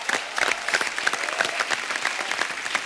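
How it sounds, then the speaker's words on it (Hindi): A studio audience on a comedy talk show applauds a women's cricketer, with fairly close, distinct claps merging into a lively, continuous burst of applause. "जोरदार तालियां होनी चाहिए।"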